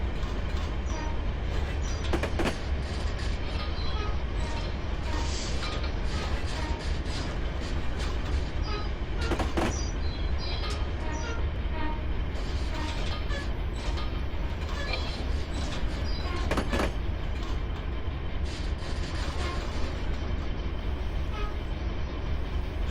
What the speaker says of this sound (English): Another train going the other direction.